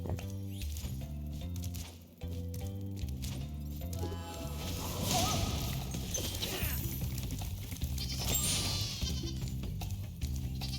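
Sheep bleating in the Spyro the Dragon remake video game, heard amid layered game music and sound effects, with a few short animal cries standing out over a continuous loud mix.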